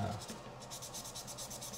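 Quiet, rhythmic rubbing strokes of fine sandpaper on carbon fiber, a steady back-and-forth scratching, close but faint.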